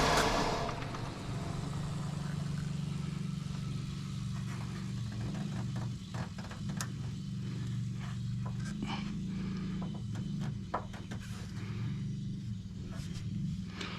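A 2005 Buick Park Avenue with a random misfire runs with a steady, close, low engine rumble that drones evenly throughout, with faint clicks and rattles on top.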